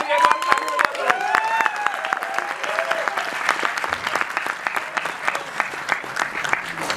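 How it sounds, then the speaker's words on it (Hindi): An audience at the Jagran Film Festival breaks into sustained applause, dense clapping with a few cheers, loud and close, with voices heard briefly in the first seconds. "एक बार ताली बजा दो।"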